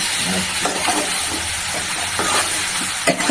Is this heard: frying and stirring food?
yes